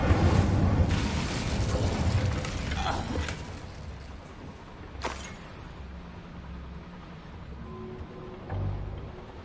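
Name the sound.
Incendio fire spell in Hogwarts Legacy video game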